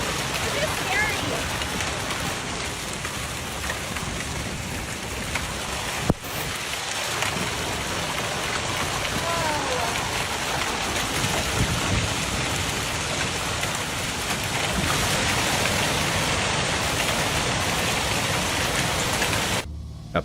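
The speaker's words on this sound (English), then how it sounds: "A powerful hailstorm raged, with deep hailstones later revealing the extent of the damage they caused." A powerful hailstorm pours down in a dense, unbroken roar of pelting ice and rain on surfaces, loud and steady throughout, with a single sharp crack near the middle.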